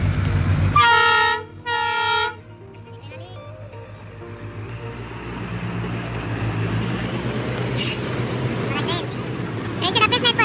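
A train horn at Matheran blares loudly twice in quick succession near the start, then fades into a rumbling, clattering passage of the train with background noise and people talking.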